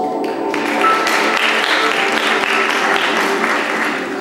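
Concert audience applauding after a performance at a music festival: dense, steady clapping from a full hall lasting several seconds, loud and continuous without voices on top.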